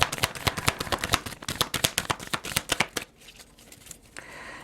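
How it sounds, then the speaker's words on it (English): A deck of playing cards riffle-shuffled up close, a rapid loud run of crisp flutters and snaps for about three seconds, then quiet handling afterward with no talking. "One more shuffle and that's it."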